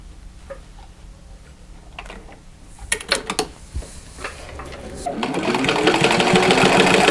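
A sewing machine sews a zippered pouch, first a few clicks and handling knocks, then a loud, steady motorized whirring that builds near the end.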